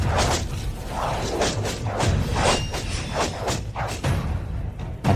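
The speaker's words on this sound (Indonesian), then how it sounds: "tembak panah" A volley of arrows loosed in a costume drama battle scene, heard as a rapid series of whooshing releases and dull thuds that overlap in a dense, driving rhythm.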